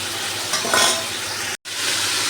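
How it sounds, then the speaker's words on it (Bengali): Chicken pieces frying in hot oil give a steady, loud sizzle with a brief stirring swell, close up and with no talk. "সেই জন্য চিকেনটা একটু ভেজে নিচ্ছি।"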